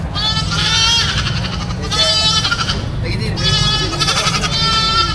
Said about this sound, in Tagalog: Pero yung mga kambing na nabili ni Kuya.